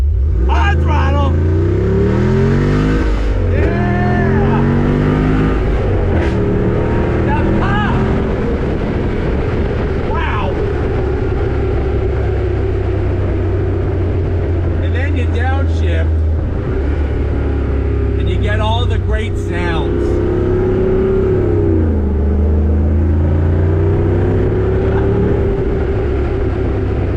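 A 2021 Jeep Wrangler Rubicon 392 pulls away from a dead stop, its big V8 engine rumbling loud and close as it builds throttle, with rising revs and wind noise over roughly half a minute and occasional voices talking over it.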